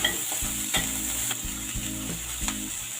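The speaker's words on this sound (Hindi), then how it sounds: "मैं अब ये जो मैंने प्याज काट के रखी थी इसको ऐड कर रही हूँ। हल्का सा इसको" Chopped onions frying in butter in a pan, with a steady hiss of sizzling broken by several brief knocks as they are stirred; close and fairly loud, with no talking.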